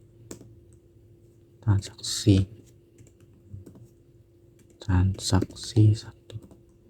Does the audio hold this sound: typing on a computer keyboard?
yes